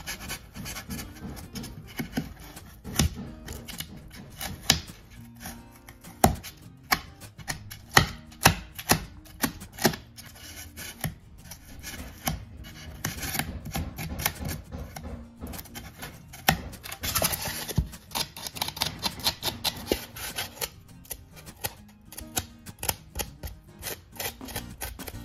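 A blade carves a cut into foam rock at close range, making a long run of scratchy, crunchy scraping strokes in an uneven rhythm with sharp bursts and no talking.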